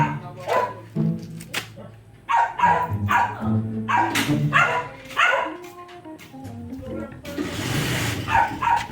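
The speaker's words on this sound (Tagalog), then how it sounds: "maingay yung aso sa kapitbahay" A dog barks repeatedly nearby in sharp, loud bursts, followed by a rush of running water near the end.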